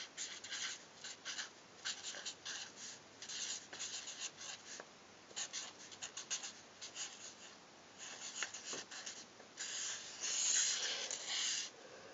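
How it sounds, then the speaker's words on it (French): Handwriting with a pen on paper, a close, soft continuous scratching with rhythmic strokes and brief pauses, growing slightly louder toward the end, with no talking. "on va écrire ça ici"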